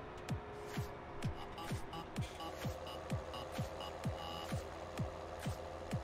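Steady reversing beeps from a vehicle in Farming Simulator 17, about a dozen evenly spaced tones over a low continuous engine rumble, moderately loud and close.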